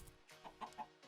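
A chicken in the video game Minecraft clucks softly a few times in short, low bursts over a faint background hum, quiet and unhurried.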